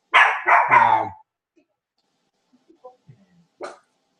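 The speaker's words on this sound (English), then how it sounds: "I'm waiting for my dog to shut up" A pet dog at home barks three times in quick succession, loud and close, followed by a few faint scattered noises and one more short bark.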